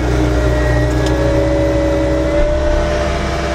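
A skid steer engine drones steadily and loudly at close range while dragging a red oak firewood log, with a brief surge near the end.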